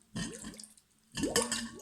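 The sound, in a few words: water entering a glass, air escaping as bubbles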